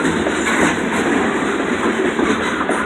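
Freight train hauling NS coal hoppers rolls steadily past close by, a loud continuous rumble with rhythmic clickety-clack of wheels over rail joints and no voices.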